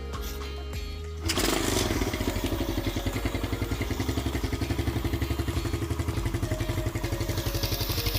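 A motorcycle, its electric starter removed, is kick-started; after a quiet pause a sudden catch brings the engine to life, and it settles into a steady, rapid, close putter of idling.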